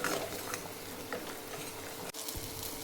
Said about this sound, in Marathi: तयार केलेलं तेलामध्ये वाटण भाजायचं आहे